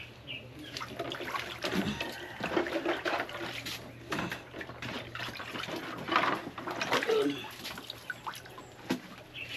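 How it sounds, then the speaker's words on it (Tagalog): Water running and splashing while dishes are washed outdoors, an uneven trickle and spatter with occasional clinks, fairly faint over a low background hum. "Kasi magugas pa ako ng pinggan."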